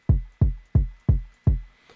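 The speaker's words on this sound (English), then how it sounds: "It's nice little round kick, and it has like a little extra little click" Round electronic kick drum sample for a West Coast hip-hop beat, with a slight click on each hit: five evenly spaced, deep thumps that decay quickly and are heard alone and clearly.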